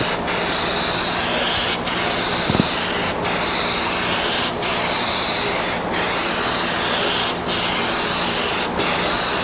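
Clear coat is sprayed onto a salvaged Scion tC in heavy strokes, a loud, close hiss that runs continuously with brief dips roughly every second and a half between passes.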